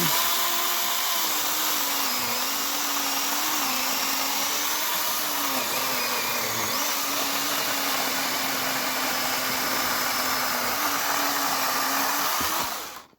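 A battery-powered cordless chainsaw cuts through a sound, non-rotten tree trunk about 20 cm thick, its motor giving a loud, steady whine that wavers in pitch under load for several seconds before abruptly stopping, with no talking.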